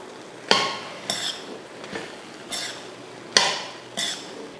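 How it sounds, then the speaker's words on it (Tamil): A utensil stirs tamarind rice (puliyodharai) with curry leaves in a pan, making six sharp scraping clanks at uneven intervals over a quiet background, with no speech. "இப்போ சாதம் போட்டுக்கலாம். இப்போ கிளறி விட்டுறலாம்."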